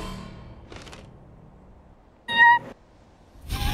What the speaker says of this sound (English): Bro, whose cat just got on the mic?